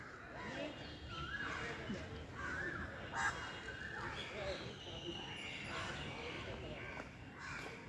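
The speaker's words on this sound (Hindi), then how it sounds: "पक्षियों के चहचहाने की आवाज़, कहीं कोयल की आवाज़, एकदम अच्छा, बहुत शांत वातावरण।" Birds call faintly around the quiet grounds of Belur Math, scattered chirps and crow-like caws over a soft, steady outdoor background.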